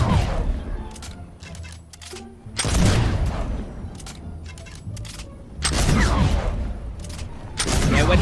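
Flintlock pistol shots in Fortnite come as several loud, sharp bursts spaced a few seconds apart, each followed by a clattering tail, with quieter game sounds filling the gaps.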